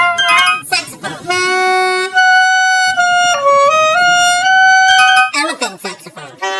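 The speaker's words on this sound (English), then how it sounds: "Saxophone." A saxophone-like tone plays a song in sustained, bright held notes, preceded and followed by short choppy reedy bursts, close and loud.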